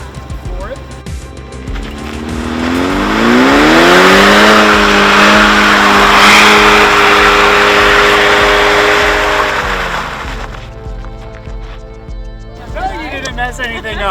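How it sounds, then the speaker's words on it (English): Ford Mustang S650 engine revving hard at full throttle in a burnout, the roar swelling and holding loud for several seconds before dropping back to idle, with people talking and reacting close by. "I want you to know how to do a real burnout"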